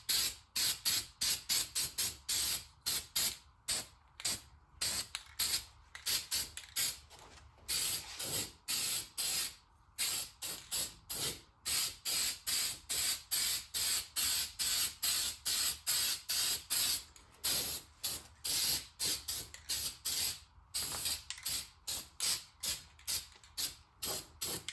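Spray paint hisses in repeated short bursts as a second coat goes onto a 1980 John Deere 400 tractor, a steady rhythm of close trigger pulls separated by brief silences, with no talk.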